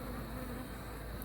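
Bees buzz around an open jar feeder of sugar water, a steady close hum of many insects filling the air, continuous with no talk and only a brief sharper sound at the end.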